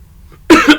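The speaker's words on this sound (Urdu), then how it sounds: "آپ نے مجھے کھانسنے کا موقع دیا" A single short, sharp cough right after a moment of quiet, close and fairly loud, from a man teaching a class.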